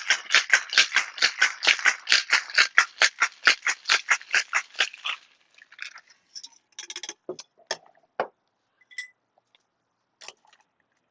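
A cocktail with ice is shaken in a shaker, about a dozen loud, even, rhythmic rattling clacks close up, followed by a few scattered clinks and taps as the shaking stops.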